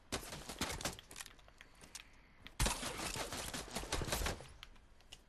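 Rapid bursts of gunfire in a custom team-versus-team video game map, sharp cracking shots fired in quick clusters, then a louder burst of overlapping fire midway before the shooting thins out.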